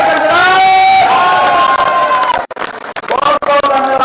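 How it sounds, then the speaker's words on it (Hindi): A large crowd at a political rally in an Ambala grain market roars and cheers loudly and close, with shouting voices over a dense wash of noise that thins briefly near the end. "तालियों से"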